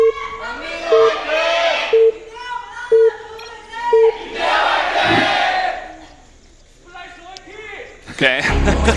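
A live crowd at a StarCraft esports match roars and chants in loud swelling bursts with rhythmic clapping beats, while an announcer talks over the noise.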